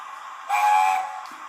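A Hornby model train's sound decoder sounds its whistle, one steady, bright blast of about half a second that fades into a quieter electronic hum, alone with no talk.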